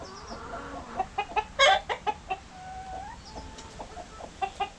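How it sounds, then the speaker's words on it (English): Rooster with hens in a backyard flock, giving a run of sharp clucks and short calls, one louder burst near the middle, other birds faintly around. "There's our rooster."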